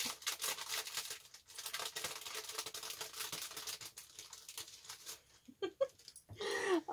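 Crinkling and rustling of plastic packaging and tape being unwrapped from mail up close, irregular crackles and tears in quick bursts.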